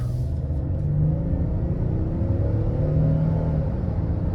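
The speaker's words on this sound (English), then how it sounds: "we're gonna go ahead and take it on the road for a quick test drive. So we'll give it some throttle here." A 2022 Hyundai Palisade Limited accelerating on a road test drive, a steady low rumble from inside the cabin with a rising engine hum and tire noise, continuous and fairly loud, with no talking.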